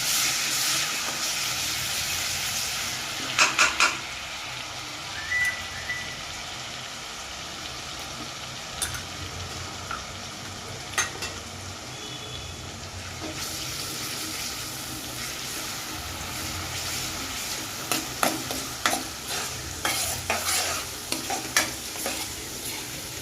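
Onion with a ginger, garlic and garam masala paste fries in a pan for an onion sabzi, giving a steady close sizzle and hiss with spoon-stirring scrapes and clinks scattered throughout.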